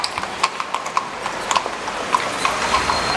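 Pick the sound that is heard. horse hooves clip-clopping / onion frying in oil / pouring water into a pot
horse hooves clip-clopping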